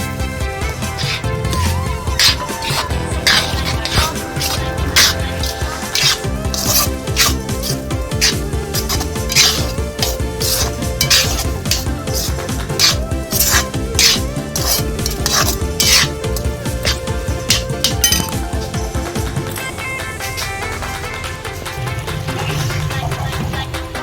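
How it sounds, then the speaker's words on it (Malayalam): Soya chunks tumbled into a pan and stirred steadily, with repeated scraping and clinking of a spoon against metal over a faint sizzle, close and continuous throughout with no talking. "ഇതിലേക്ക് നമുക്ക് സോയ ചേർത്ത് കൊടുക്കാം."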